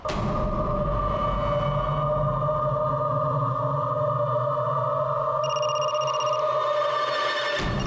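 Telephone ringing with an incoming call, a steady electronic tone held loud and continuous, stopping abruptly near the end.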